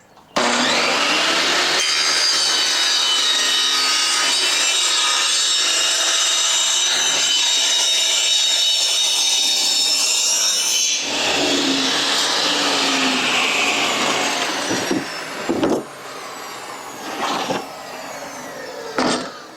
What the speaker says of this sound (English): I clamp the board down, run it through my table saw and give me one good straight edge